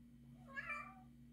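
Cat giving a single short meow, faint and somewhat distant, over a low steady indoor hum.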